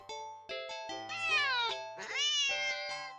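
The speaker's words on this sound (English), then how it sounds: "the cat meows sharply at you and dashes off around the corner and into the hall" A house cat lets out a series of sharp, close meows, several short calls followed by two longer rising-and-falling cries, loud and clear with no other sounds around them.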